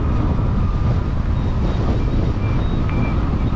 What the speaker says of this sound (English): Ooh, it's quite windy.